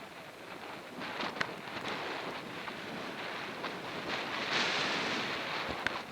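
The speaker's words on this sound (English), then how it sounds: "It's like I'm gonna blow over from this wind." Strong wind gusts through a Pennsylvania wilderness area on a cold autumn day in the low 40s, a steady broad roar buffeting the microphone, with a few brief knocks and no speech.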